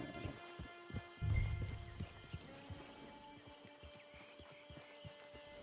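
Horse hooves clip-clopping in the online Western video game Red Dead Online, a steady quiet rhythm of hoofbeats over a low background hum and sustained tones, with one heavier thud early on.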